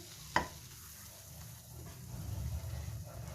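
Flour is stirred into butter and oil in a pan, giving a faint, soft sizzle and scraping that builds gradually, with one sharp utensil tap near the start.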